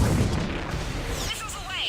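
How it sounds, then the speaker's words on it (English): A Mass Effect 3 missile salvo launches in a dense, loud roaring burst of booming blasts and whooshing trails, with a voice briefly audible. "Missiles away."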